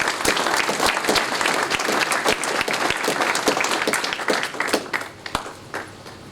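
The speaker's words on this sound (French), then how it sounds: "je crois qu'on peut l'applaudir" An audience claps at a New Year's greetings gathering, with dense, steady applause from many hands close by that thins into scattered claps before fading out.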